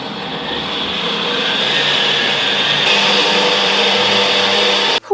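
Kitchen robot food processor running in soup mode, a loud steady motor whir with a high whine that holds for about five seconds, then cuts off abruptly.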